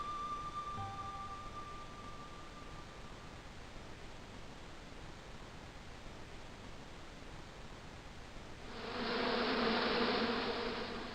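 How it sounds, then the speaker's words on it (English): Hornets buzz angrily from a bush on an island in the video game Broken Sword 2, a steady droning hum that swells louder near the end, with no talk. "As I walked towards the bush, it started buzzing angrily."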